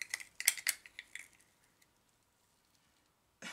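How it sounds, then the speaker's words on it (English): A tool scrapes and taps against the bottom of a cup of orange acrylic paint, giving a quick cluster of small clinks and scrapes over about a second and a half, then near silence, with one more faint knock at the end. "So he's scraping the bottom of the cup."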